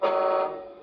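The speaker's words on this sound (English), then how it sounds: "If I go up sharply, it gives me the hooter" A Tamiya King Hauler RC truck sounds its hooter: one short, loud, close electronic horn blast, a steady tone lasting under a second before fading.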